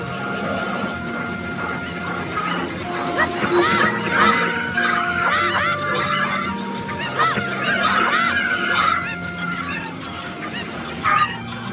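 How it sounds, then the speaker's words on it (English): Chickens in Zelda Ocarina of Time squawk and cackle in a loud, continuous flurry of overlapping cries lasting several seconds, with no voices over them. "Just kind of tempting fate messing with the chickens."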